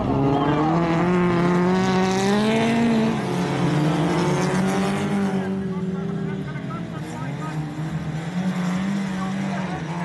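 Rallycross race cars in a tight pack of five during a final, engines droning and revving as they pass. A commentator talks over the noise throughout.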